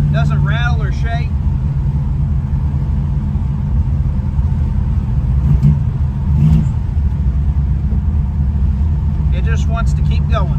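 A 1967 Dodge Coronet R/T on a test drive, its engine a steady loud low rumble throughout, with someone talking over it at the start and near the end.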